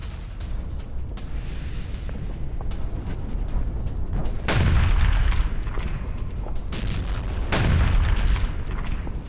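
Explosions from a Russian air strike in Ukraine come as two heavy, booming blasts about three seconds apart over a continuous low rumble.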